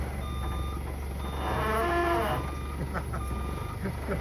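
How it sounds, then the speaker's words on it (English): An old car's metal groans and creaks as it is pulled out, a wavering drawn-out moan over steady low engine rumble and faint repeating beeps, with some background noise throughout. "Just listen to that old metal groan."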